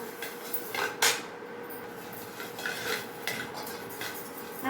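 Coriander seeds stirred as they roast in a pan for bisi bele bath powder: a steady dry rattle of seeds with occasional scrapes and clinks of a spoon against the metal, close and moderately loud.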